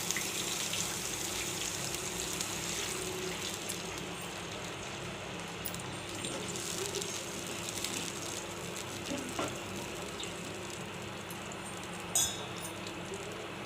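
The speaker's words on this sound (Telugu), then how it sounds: "1 గ్లాస్ వాటర్ పోసుకుంటున్నాను" A glass of water is poured into a pan of tempering for semiya upma, giving a steady, soft rushing splash that runs unbroken throughout, faint and without talk.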